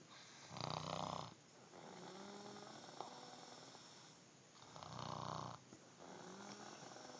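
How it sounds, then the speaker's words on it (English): A woman snores in her sleep, two long rasping inhalations a few seconds apart, close and fairly quiet, with soft breathing between them. "Can you hear her snoring?"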